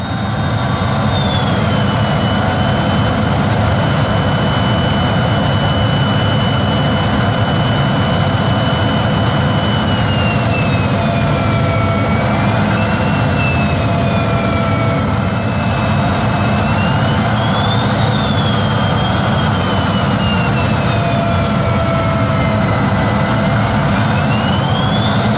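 An F-16 Block 50 fighter jet's engine roars steadily during landing, a loud continuous drone with shifting whining tones heard from inside or alongside the aircraft.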